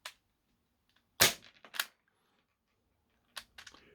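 An ASG Mk23 gas airsoft pistol firing in a quiet room, with a sharp crack and rattle of the slide heard twice, each followed by brief mechanical clicks.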